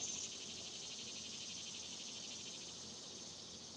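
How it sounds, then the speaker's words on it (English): Steady, high-pitched insect buzzing drones outdoors throughout, with no breaks in the shrill chorus. "Lots of cicadas out."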